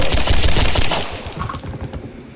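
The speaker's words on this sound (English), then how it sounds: "Why are you shooting me?" Rapid gunfire in Garry's Mod, loud and dense at first, then tapering into scattered, quieter shots.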